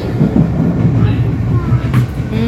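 A train passes in Dublin, Ireland, with a steady, fairly loud low rumble and faint metallic squeals above it, lasting the whole moment without letting up.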